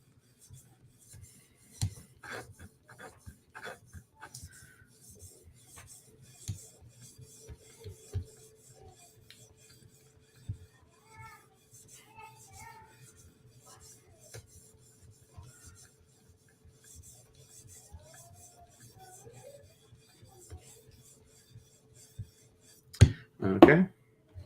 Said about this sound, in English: we flipped it over and we're reducing the burr right now. I'm polishing everything up